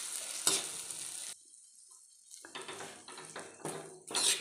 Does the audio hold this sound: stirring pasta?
yes